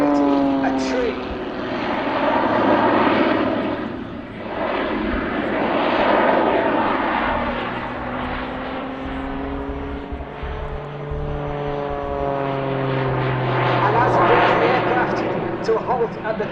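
A Jet Pitts S2S aerobatic aircraft climbs at an air show, its engine roaring with rising and falling whine as it passes, loud and sustained under a commentator's voice.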